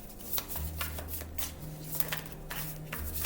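Slick tarot cards are shuffled close up in quick riffling bursts, a crisp repeated flutter and slap over a few seconds, with a faint low hum underneath.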